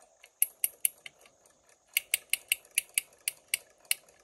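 Winding a vintage Westclox alarm clock produces a close run of sharp metallic ratchet clicks, a handful of irregular turns followed by a steadier series of about ten crisp clicks, with no talking.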